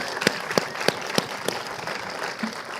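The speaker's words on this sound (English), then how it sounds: "So can we give a big round of applause for their work?" An audience applauds a summit panel of young education awardees: a few sharp, evenly spaced claps ring out over a softer wash of crowd clapping that gradually thins out.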